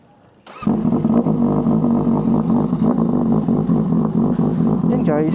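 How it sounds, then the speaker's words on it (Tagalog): A CFMOTO 750SR-S motorcycle with a dual aftermarket exhaust bursts into a loud, deep, throbbing engine note after a brief quiet moment, then holds a steady rumble with a slight rise near the end. "Guys, sound check. CF Moto 750 SRS. Naka after exhaust na"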